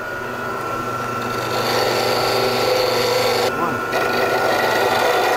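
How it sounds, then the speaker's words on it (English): A wood lathe spins steadily as an oval skew chisel straightens a pen blank after roughing, giving a loud continuous whirring hum with a brief change in the cut near the end. "we're going to take our oval skew and straighten it out"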